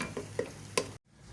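Softened tomatoes being fried and stirred in a pan for chicken tikka biryani: three quick spoon scrapes over a light sizzle, then it cuts off abruptly.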